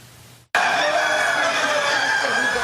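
Laying hens in a large poultry research facility housing about 6,000 birds, a loud, steady din of overlapping clucks and crowing-like calls filling the barn continuously after a brief quiet start.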